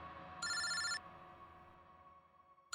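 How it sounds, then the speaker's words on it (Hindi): A telephone rings once in a short electronic trill, then a quiet room with a faint steady hum, and another ring just starting at the end. "इनका फोन मत उठा तुम।"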